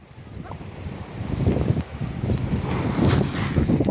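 Steady roar of sea waves and gusty wind buffeting the microphone on the coast of Samar, a continuous rushing wash with no talk.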